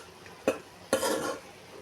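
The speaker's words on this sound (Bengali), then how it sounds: "নেড়ে কষিয়ে নিলাম।" Taro stolons with garlic, salt, turmeric and chili being stirred in a pan: two distinct scraping strokes of a utensil over a faint sizzle, the second longer and dragging.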